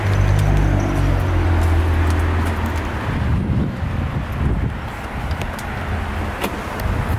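Gusty outdoor wind buffets the microphone on a Saturday morning outside a gym, a loud rumbling roar that eases slightly halfway through, with a car passing nearby in the background.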